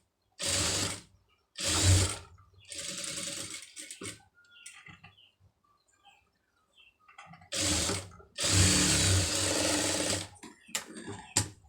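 A sewing machine stitching piping runs in three loud bursts of rapid mechanical clatter, separated by quiet pauses with small handling clicks.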